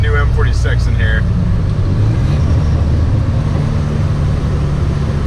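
A Volvo 740 turbo pulls hard under boost in third gear, a loud, steady engine roar that fills the whole stretch, with a few brief tones near the start.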